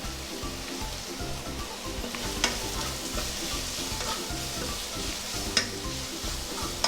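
Sliced onions with salt frying in a pan for a Malabar egg snack, giving a steady close sizzle with soft scraping from stirring and occasional clicks from the utensil.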